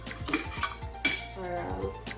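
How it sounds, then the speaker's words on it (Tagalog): Utensil stirring chicken adobo in a metal pot, repeated scraping and clinking of spoon against pot in an uneven rhythm, close and moderately loud, with faint background murmur. "So, haluin ng konti"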